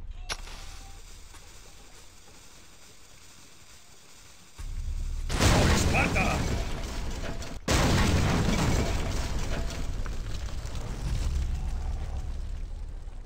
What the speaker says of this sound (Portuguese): quebrar essa caixinha e ativar a bomba